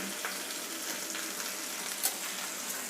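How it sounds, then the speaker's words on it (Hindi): Okra (bhindi) frying in oil in a pan, giving a faint continuous crackling sizzle with a couple of small pops and clinks. "तो जब तक हमारी हो रही है भिंडी फ्राई, तब तक हम मसाला तैयार कर लेते हैं।"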